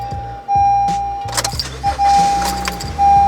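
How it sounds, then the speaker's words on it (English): A car is switched on after a 3-channel dash cam has been fitted, with loud electronic chimes and a steady tone over a low idle hum and clicks, the tone repeating in bursts and no voices. "Then let's turn on the car."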